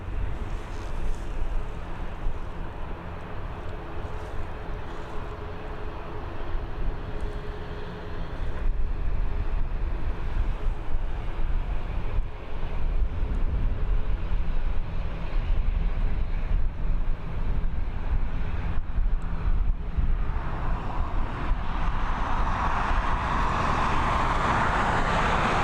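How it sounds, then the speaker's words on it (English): An ATR 72-600 turboprop departs Dublin Airport, its engine roar building to a loud, steady drone with wind buffeting the microphone, the sound shifting as the aircraft rolls away into the distance. "this ATR 72-600 is now ready for its departure to head over to"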